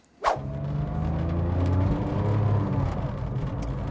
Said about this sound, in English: let's go ahead and take this modified version out for a spin